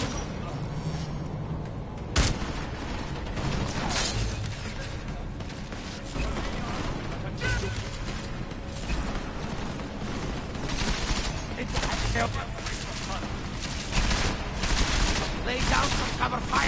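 Sustained bursts of video game gunfire crackle for the whole stretch, a loud fusillade of overlapping shots and machine-gun rattle with a sharp blast near the start, while voices talk underneath.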